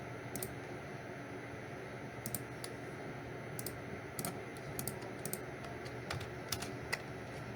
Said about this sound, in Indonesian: Biar lebih cepat, kita Ctrl A, Ctrl C.